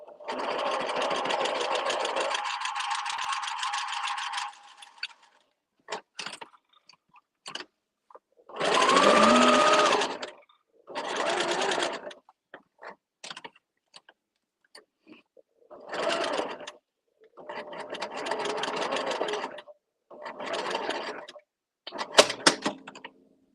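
A sewing machine stitches a quarter-inch seam on a thread catcher in several separate runs of rapid, rattling mechanical stitching. The runs range from short bursts to several seconds long, with quiet pauses between them.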